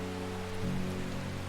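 Steady rain patters in the game Strange Horticulture, a dense even hiss over a low droning hum that continues throughout without pause.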